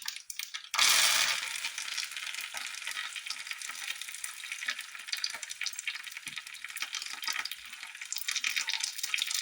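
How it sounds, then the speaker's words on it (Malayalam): After a short quiet moment, a loud burst of crackling and sizzling as curry leaves hit hot oil, continuing steadily, with sharp popping close by. "കരുവേപ്പില ഇടുമ്പോൾ ഒന്നും കൂടി പൊട്ടും"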